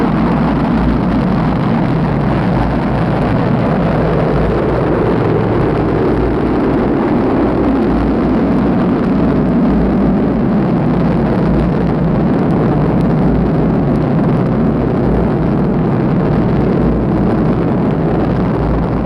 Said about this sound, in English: The training launch of a huge Air Force missile from its silos somewhere in America.